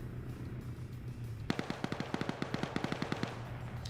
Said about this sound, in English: looks like the windows obscured some of the bullets